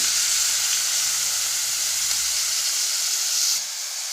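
Chopped onions and cumin seeds sizzle loudly in hot oil for baingan bharta, a steady close hiss that drops to a quieter fizz near the end.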